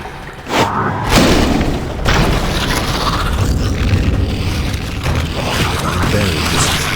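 Wooden supports toppling and collapsing inside a cave in The Witcher, heard as a heavy boom and thuds near the start followed by a long, loud, continuous rumble of falling debris.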